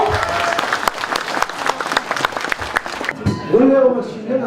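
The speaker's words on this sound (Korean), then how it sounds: "박수! 박수! 박수! 박수!" Applause at a New Year ceremony of the Park Geun-hye fan club, a crowd clapping in rapid crackling bursts while a man chants loudly over it, then a voice speaking as the clapping fades.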